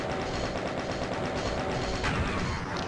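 DOOM's chaingun firing in a rapid, continuous stream of shots, dense and steady throughout, mixed with game noise and no speech.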